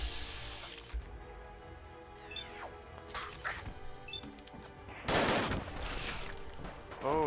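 Gunfire in Fallout 4 with a combat mod, scattered shots through a busy game soundscape, then a louder burst of rapid fire near the end; faint voice-free game noise throughout.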